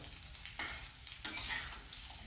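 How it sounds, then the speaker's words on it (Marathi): Potatoes frying in hot oil with a cumin tempering, with bursts of loud sizzling as something is stirred or added, crackling rising sharply twice. "हे आलू छान तेलामध्ये भाजून घ्यायचे अशी फोडणी करून"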